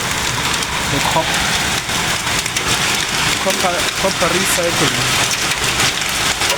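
Hail in a storm in Maseru, Lesotho, falls in a steady, dense, loud clatter on surfaces, a continuous roar of impacts throughout, with someone talking over it.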